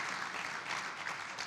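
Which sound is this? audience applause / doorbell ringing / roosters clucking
audience applause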